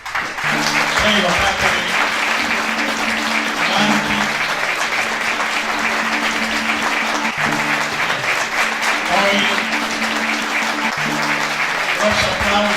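A theatre audience applauds the actresses after a Sicilian-language Greek tragedy with full, sustained clapping. A voice speaks briefly over it, and a low musical tone repeats underneath.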